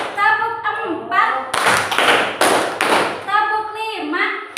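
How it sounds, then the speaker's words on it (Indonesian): Group of people at an Indonesian teachers' workshop clapping in counted sets, several loud bursts of hand claps between a leader's spoken counting calls. "Tepuk satu. Tepuk dua. Tepuk tiga. Tepuk empat."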